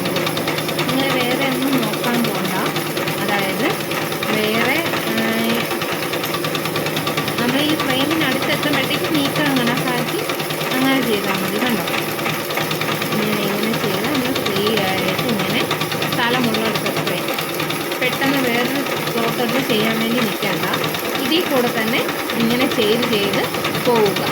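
Embroidery sewing machine stitching free-hand, a steady fast mechanical whir running throughout, with a person talking over it close by.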